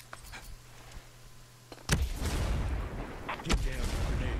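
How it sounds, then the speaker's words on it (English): A grenade goes off in the shooter Ghost Recon Breakpoint with a sudden loud blast, followed by a long rumbling roar and a second sharp bang, after a quieter stretch of faint game ambience. "Throwing a grenade."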